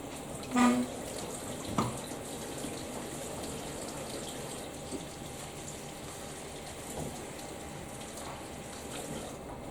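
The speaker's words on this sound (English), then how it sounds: "I'm going to wash them with warm water, okay? With some soap as well." Warm water runs steadily from a tap as hands are washed with soap, a faint, even splashing hiss with a few brief knocks and clatters near the start.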